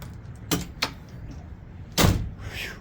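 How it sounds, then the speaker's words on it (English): The power lock on a Ram pickup's truck cap clicks, giving a few short, close clicks spread over a couple of seconds, with one firmer clack near the end. "Hit the lock button. Just a tiny little click."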